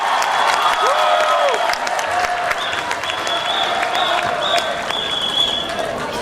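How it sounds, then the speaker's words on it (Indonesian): Lively audience applause closing a presidential candidates' debate in Makassar, loud and sustained clapping from a large hall crowd, with tonal whistles or microphone feedback ringing over it. "Kita berikan lagi tepuk tangan yang meriah"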